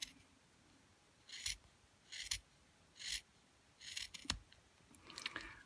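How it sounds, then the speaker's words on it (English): Scissors snip through a glove cuff in about six separate crisp cuts, close and quiet, with short pauses between them. "I'm going to cut it off just where the cuff is here."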